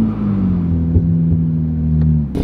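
A 2023 Nissan Z Proto Spec engine holds a steady, loud rumbling rev during a burnout attempt, droning evenly for about two seconds before cutting off abruptly.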